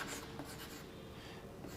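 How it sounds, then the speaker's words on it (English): Chalk or marker scratching steadily across a classroom board during a logic lecture, a continuous close scraping stroke with no talk over it. "Now we are to write with the diacritical signs."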